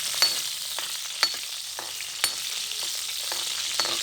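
Green chillies fry in a hot pan with a continuous close sizzle, broken by a few sharp spits and crackles at irregular moments.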